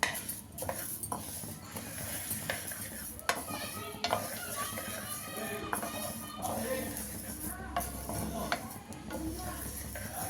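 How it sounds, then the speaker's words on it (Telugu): Flax seeds dry-roasting in a pan, with steady scraping and stirring clatter, small crackles and occasional sharp clinks of a utensil against the metal, all at close range with no voices. "ఇప్పుడు అవిసి గింజలు వేసుకుని వేయించుకోవాలి చిట్టపట్లాడి వరకు"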